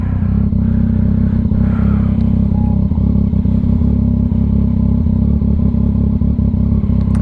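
2022 Yamaha XSR900 with a VCYCLENUT tune running loud and close, its engine held at a steady, heavy drone with clattery mechanical texture and small throttle fluctuations, no speech.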